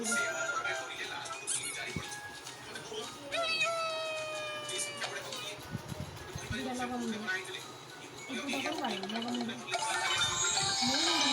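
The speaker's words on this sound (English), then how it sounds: "C is for cat." A cartoonish synthesized cat meow pops out amid bright chimes and squeaky electronic effects in an ABC kids' game, with a voice talking over the busy game sounds.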